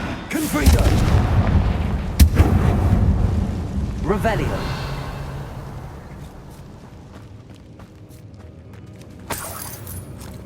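A Bombarda blasting spell explodes in Hogwarts Legacy, a loud booming blast followed by a rumbling decay and a second sharp burst, under a voice speaking.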